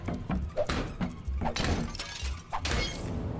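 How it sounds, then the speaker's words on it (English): Picture frames shattering in a video game: several sharp breaking crashes in quick succession, close and fairly loud, with clattering debris between them. "Shatter picture frames."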